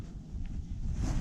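Fierce blizzard wind buffets an ice-fishing tent on the frozen Gulf of Finland, a steady close rumble with gusty low roar that builds slightly toward the end, no voices.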